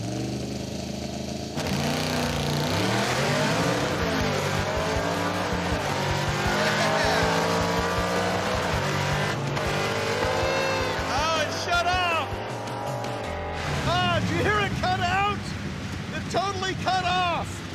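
Race car launching at 3,000 RPM in cold weather, engine revving hard with tires spinning and squealing, loud and close, with people talking over it.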